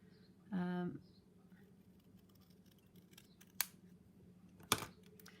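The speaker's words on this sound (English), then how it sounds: "I'm just cutting it up first of all and seeing if I want it as it is" Scissors snipping a mixed-media paper tag: one short crisp cutting stroke near the start, then quieter handling with two sharp clicks later, close and fairly quiet.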